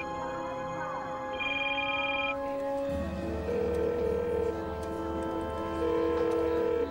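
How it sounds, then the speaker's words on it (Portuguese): A telephone rings in a tense action-film scene, steady tonal ringing and electronic tones layered over a low rumbling score, loud and continuous throughout. "Vai, André, atende esse telefone"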